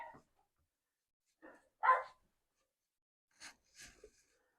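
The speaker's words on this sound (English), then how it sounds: "the dogs are barking" A dog barks a few times, sparse and spaced out, fairly faint and somewhat distant, with quiet gaps between the barks.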